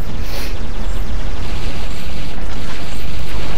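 Shooting at an enemy in the video game Global Agenda, a dense, continuous roar of loud weapon fire and booming bursts that fills the whole stretch without pause.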